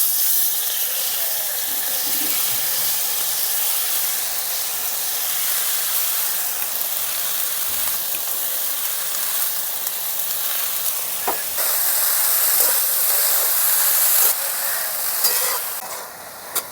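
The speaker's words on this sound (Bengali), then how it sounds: "নাড়াচাড়া করে ঢাকা দিয়ে আলুর সঙ্গে সজনের ফুলটাও খুব সুন্দর করে ভেজে নেব" Drumstick flowers and potatoes fry in a pan, making a loud, continuous hiss close by, with a few faint utensil knocks and a brief quieter dip near the end.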